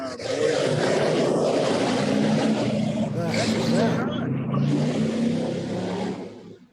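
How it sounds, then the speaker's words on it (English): Motorcycles revving nearby outdoors: a continuous, loud, rough engine roar swells and holds for several seconds, with a brief voice under the din, then tapers off at the end. "just guys revving their motorcycles, being ruckuses"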